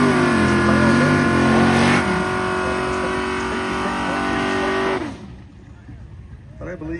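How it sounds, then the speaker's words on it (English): A modified 1967 Chevy Camaro drag car roars at full throttle on an airport drag strip at a charity event, the loud sustained engine note holding steady before cutting off abruptly, with a commentator talking over it. "the Dirksen Trucking Lane is Anthony Elias and his 67 Chevy Camaro"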